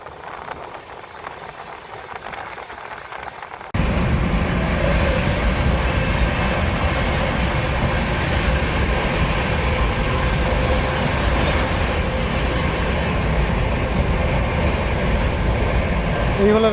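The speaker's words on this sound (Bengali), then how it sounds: "যথেষ্ট গতিতে বিকারিং সুপারফাস্ট ট্রেনটি আসানসোলের পথে ছুটে চলেছে।" A superfast passenger train speeds along at night toward Asansol, its loud, continuous rumble and wheel roar starting abruptly after a quieter stretch and staying strong and close to the end.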